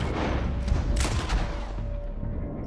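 Gunfire rings out in the video game Red Dead Redemption 2, a few sharp shots cracking over a low, rumbling game soundscape at moderate distance.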